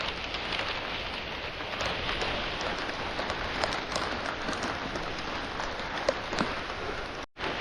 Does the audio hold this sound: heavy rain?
yes